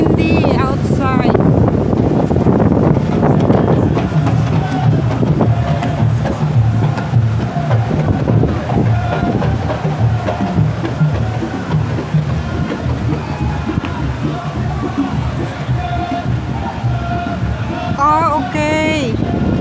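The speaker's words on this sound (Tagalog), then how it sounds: "Oh my God, it's so windy outside." Strong wind buffets the microphone outdoors on a Riyadh boulevard, a loud constant roar and rumble throughout, with crowd noise and voices faintly beneath it.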